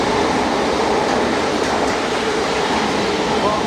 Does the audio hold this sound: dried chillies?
no